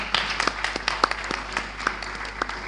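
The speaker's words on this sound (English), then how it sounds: "So if you're giving a round of applause" Audience applause at a tech week event in Akwa Ibom State, sparse and thin, with scattered individual claps in an irregular rhythm over a faint background hum.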